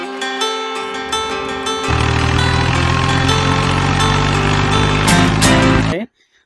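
A Kisan Kraft 13 HP heavy-duty farm machine runs close by, its steady mechanical drone growing louder and fuller after the first two seconds, then stopping abruptly near the end.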